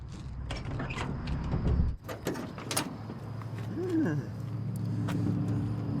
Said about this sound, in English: Doors open up nicely